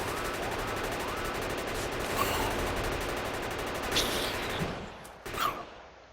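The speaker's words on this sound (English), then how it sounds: "the turrets can basically take out these guys as fast as they can be spawned" Automated gun turrets in the Factorio video game fire on enemies in a rapid, continuous machine-gun rattle, steady and mid-distance, with a few sharper bursts before the barrage thins and breaks off near the end.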